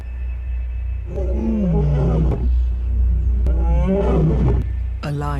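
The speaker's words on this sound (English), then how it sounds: "The roar echoing along the river means that big male lions are on the" Deep roars from a big male lion echoing along a river, two long groaning calls followed by the start of a third, loud and close over a steady low rumble.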